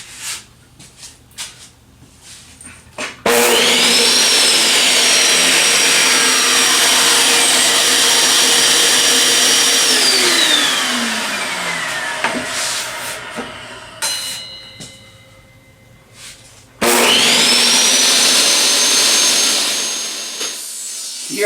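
A power saw cuts thin wood in a single pass while a circle-cutting jig is being built. The blade spins up loudly, then strains through a long continuous cut, drops briefly, and roars up again for a second cut, close and with no talk.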